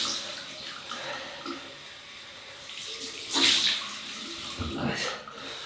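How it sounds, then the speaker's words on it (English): Running tap water for a cold rinse after a wet shave, a steady, fairly quiet hiss with a brief stronger splash midway and faint voices in the background. "We'll have a cold water rinse"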